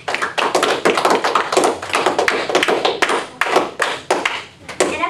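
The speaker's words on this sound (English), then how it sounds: "Students, give a round of applause to the parents for supporting us." Students applaud parents at a school debate awards ceremony: a dense burst of clapping from a roomful of hands, steady and fairly loud, with uneven peaks and dips as individual claps stand out.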